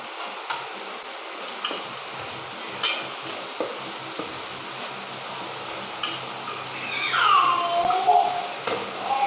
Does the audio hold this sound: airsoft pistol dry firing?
no